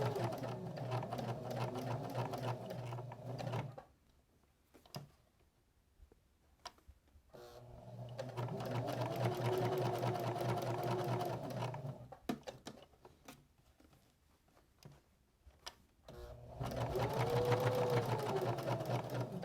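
A sewing machine stitches a curved seam on a small fabric apron recipe holder, running in three steady bursts with quiet pauses between, the middle run slower and eased around the curve.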